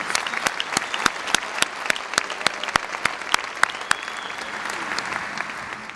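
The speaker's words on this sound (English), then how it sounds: "Let's give her another round of applause." A university commencement crowd applauds in a large hall, sustained clapping with a few sharp, regularly spaced loud claps standing out near the recorder, no talking over it.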